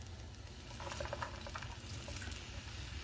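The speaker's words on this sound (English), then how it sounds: "Onions, we'll just saute it for about 1 minute" Onions sauteing in a pan for a quinoa and cluster bean dish, giving a steady close sizzle and crackle with soft popping bursts throughout, no talking.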